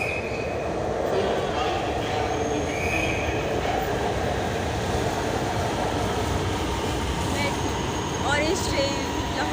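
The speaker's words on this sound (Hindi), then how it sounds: "orange train Lahore" Lahore's Orange Line metro train running, with steady rail rumble and rolling wheel noise throughout, occasional faint wheel squeal, and a voice speaking beneath the continuous ride noise.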